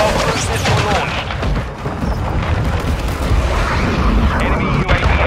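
Booming explosion from a cruise missile strike in the video game Call of Duty: Modern Warfare 2, a dense, continuous low rumble of blasts and gunfire filling the whole stretch with heavy battle noise.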